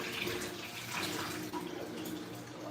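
Water runs steadily into a fish tank being filled, a soft continuous splashing rush at moderate distance with no voices over it.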